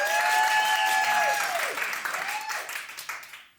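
Live storytelling show audience applauding, a dense wash of clapping that fades out over a few seconds, with faint tonal sounds mixed in.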